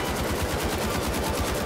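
An M60 machine gun in the shooter game The Finals fires a continuous rapid burst, dense evenly spaced shots running without pause, loud and close.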